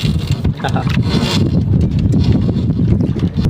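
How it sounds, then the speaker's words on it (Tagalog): Loud, gusty wind buffets the microphone outdoors in the countryside on a hot day, a continuous low roar with rising and falling rumbles. "Malakas naman ang hangin."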